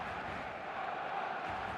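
A large stadium crowd in the eFootball video game roars in a steady, distant wash of cheering and chanting. The sound holds at a low, even level throughout the brief moment.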